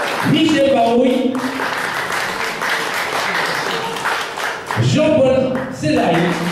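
A studio audience applauds guests on a French morning show, steady dense clapping throughout, swelling at the start and again near the end while a host's voice talks over it.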